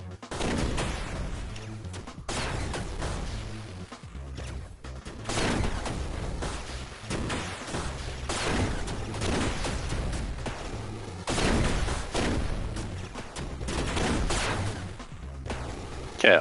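Repeated bursts of gunfire from a weapon in the video game Blastful pound away steadily and loudly for the whole stretch, with heavy booming shots and no pause.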